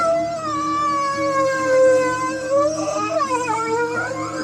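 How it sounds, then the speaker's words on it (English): A creature's eerie, wavering howl in an audio drama set at a cemetery at sunrise, one long sustained wail that slides in pitch and turns rougher and more agitated near the end. "the thing in her arms began to howl"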